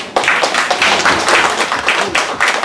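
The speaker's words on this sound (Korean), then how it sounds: "이 목사님도 박수 한번 쳐주십시오" A church audience applauds a pastor at an overseas mission conference in Hawaii, a dense burst of clapping that starts abruptly and holds steady and loud for a few seconds.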